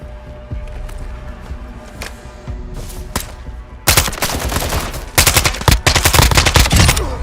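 Gunfire in Call of Duty Warzone 3 DMZ, scattered single shots at first, then loud sustained automatic bursts of machine-gun fire crackling near the listener in the second half.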